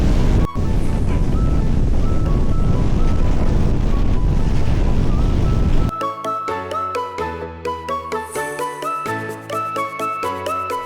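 Strong wind on a mountain buffets the microphone with a loud, constant roar for several seconds, then gives way to choppy, rhythmic broadband bursts.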